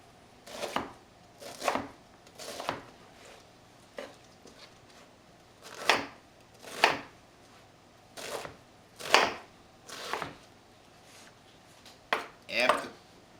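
A knife chops ingredients on a board for stuffed cabbage, about a dozen crisp separate strikes in an uneven rhythm, close and fairly quiet, with no other sound between them.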